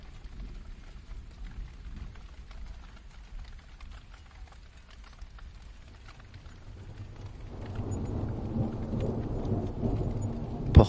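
Rain falls steadily with rolling thunder, a soft low rumble that swells into a louder, denser downpour and a heavy thunderclap near the end.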